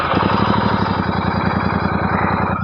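A Royal Enfield GT650 twin with its stock exhaust idles close by, a steady even low thumping pulse, loud and alone, easing slightly near the end.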